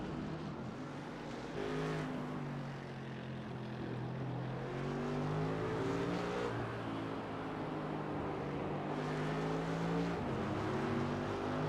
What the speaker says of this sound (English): The roar of the Mercedes engine in Scott Malcolm's car